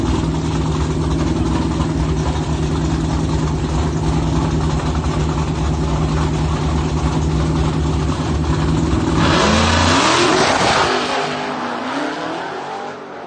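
Dodge Challenger Hellcat Redeye at a drag strip, a loud steady idle rumble holding for several seconds before the engine roars and revs hard, then fades as the car pulls away, no talk.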